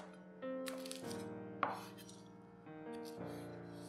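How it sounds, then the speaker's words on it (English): Kitchen prep for a ginger sesame oil chicken stir fry: the white parts of spring onions are patted down on a board, giving one sharp knock partway through against steady background tones. "Pat down the white parts of the spring onions to help it release its flavor."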